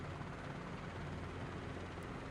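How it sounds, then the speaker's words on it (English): A simulated helicopter rotor in Microsoft Flight Simulator 2020 spinning at constant RPM, a steady, dense whooshing drone with a faint rhythmic beat and no variation across the clip. "the rotor of the helicopter, let me stick my head out the window, the rotor up there, always spins the same RPM"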